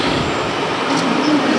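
A high-speed rail train pulling into the station in Huwei, Yunlin, a steady loud rumble and rolling hiss with a brief faint squeal as it slows.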